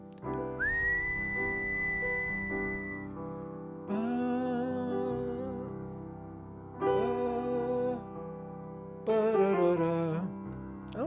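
Someone whistles a melody in several short phrases separated by pauses, the tune sliding and wavering, clear and close with no speech.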